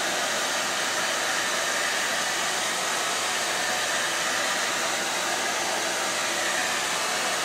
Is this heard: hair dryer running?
yes